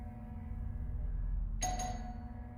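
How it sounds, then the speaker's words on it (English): Apartment doorbell: one bright electronic chime rings out suddenly and decays over a steady low hum, with no voices. "We're really laying into the doorbell there, aren't we?"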